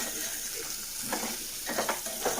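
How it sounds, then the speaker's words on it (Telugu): Ground spices fry with sticky taro root in a pan, giving a quiet, continuous sizzle with a few soft stirring scrapes toward the end. "ఈ మసాలాలన్నీ కూడా వీటికి పట్టేలాగా ఒక రెండు నిమిషాలు వేయించుకుందాము"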